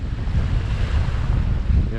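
Strong gusty wind blowing onto a shoreline bank buffets the microphone with a constant low rumble and roar, steady throughout, no voices.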